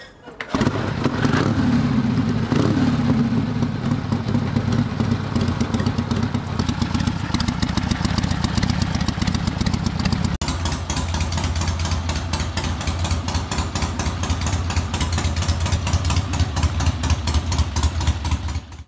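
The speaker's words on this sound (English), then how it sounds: "can we just appreciate the incredible sound of the Ironhead engine?" A Harley-Davidson Sportster with its Ironhead engine runs with a deep, loping motorcycle rumble, throbbing steadily and close, shifting to a sharper, faster pulse partway through, while a voice talks over the first half.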